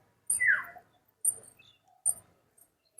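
Pigeons kept at a home coop give three short, close chirping calls spaced about a second apart, each bursting out sharply and trailing off into quiet.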